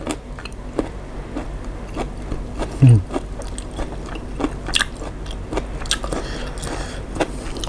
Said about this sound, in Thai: เสียงเคี้ยวหอย